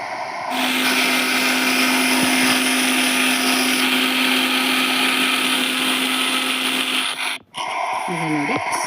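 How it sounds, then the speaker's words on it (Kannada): A small mixer-grinder jar blitzes roasted spices into fine powder for saaru, a loud, close, high whirring roar that runs steadily for about seven seconds, then cuts off abruptly, followed by a brief rattle. "ಇವಾಗ ನಾವು ಎಲ್ಲ ಮಸಾಲೆ ಹುರಿದದನ್ನು ಮಿಕ್ಸಿ ಜಾರಿಗೆ ಹಾಕ್ಕೊಳ್ತೀವಿ. ಈಗ ನಾವು ಇದನ್ನು ಪುಡಿ ಮಾಡ್ಕೊಳ್ಬೇಕು."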